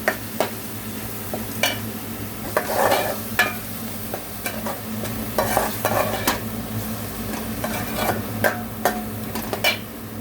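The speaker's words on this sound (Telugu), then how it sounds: "ఈ అల్లం వెల్లుల్లి పేస్ట్లో వేసి బాగా ఫ్రై చేసుకోవాలి." Ginger garlic paste and ground masala sizzle steadily in a hot pan, with repeated scraping stirs and clinks of a spoon against the metal throughout, no talking.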